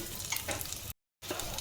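Moong dal fries in a pan with a steady close sizzle and scraping stirs, cut by a short silent gap before the frying noise resumes.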